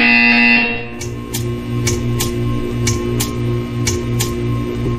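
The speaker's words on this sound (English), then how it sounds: "You will hear a buzzer." A harsh electronic buzzer in the video game Portal 2 blares for about a second, followed by a steady hum with regular ticking clicks.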